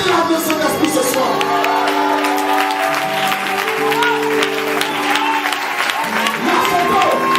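A church congregation at a Holy Spirit seminary applauds and cheers loudly and continuously, a dense wash of clapping with voices and raised tones mixed in.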